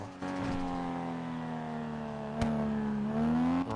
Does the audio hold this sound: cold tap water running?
no